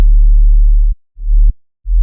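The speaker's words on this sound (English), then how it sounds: "We just have this clean sine wave with the saturation" A clean, saturated sine-wave sub bass for bass music plays as three loud, deep notes: a long sustained tone, a shorter one after a gap, and another starting at the end.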